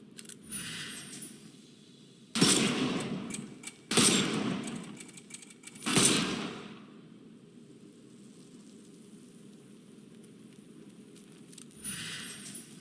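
Three loud bursts of gunfire in Sherlock Holmes: Chapter One, fired at armoured enemies, each a sharp close volley with ringing metallic impacts, separated by quieter ambient hum, then a fainter fourth shot near the end.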